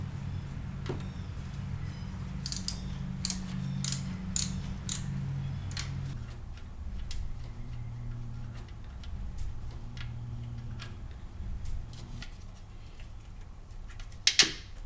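Ratchet clicks from a socket wrench come in uneven bursts, quiet and close, while working on the alternator of a 2008 Cadillac CTS with a 3.6L V6, set against a low background rumble, followed by a couple of sharper metallic taps near the end.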